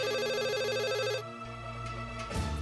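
An electronic telephone ringtone from a Bhojpuri TV drama scene chirps in a bright, repeating warble for about a second, then breaks off into a low hum and background music with no talking.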